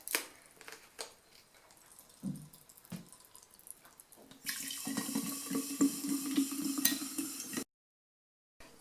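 Soda water is poured into a glass for lemon juice, a bright hissing gush after a few soft clinks and taps, then it stops abruptly.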